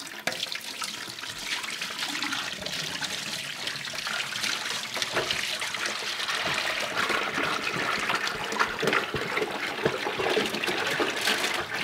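Water pours and splashes steadily for several seconds from a 6-gallon plastic water bottle being emptied, a continuous gurgling rush like liquid emptying into a sink, with no talking.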